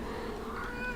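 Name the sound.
cat meowing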